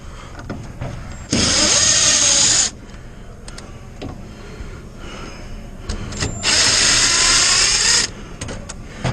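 Power driver backing out screws on an Azkoyen Zensia coffee machine, two bursts of loud high whirring about a second and a half each, separated by quieter handling clatter.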